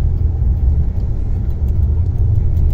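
A car rumbles past nearby with a low, steady engine drone that stays strong and continuous throughout, heard on a sand dune outing, with no talking over it.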